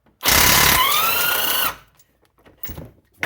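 An impact or air wrench loosens brake caliper bolts on the front hub of an Infiniti G35/G37, a loud, close buzzing whir lasting about a second and a half, followed by faint clinks and shuffling.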